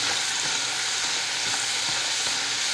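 Steady, dense sizzle of yuca fries frying in hot oil in a small pot, a continuous crackling hiss with faint bubbling and no voices.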